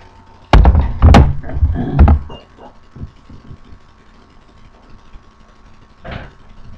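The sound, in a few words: door opening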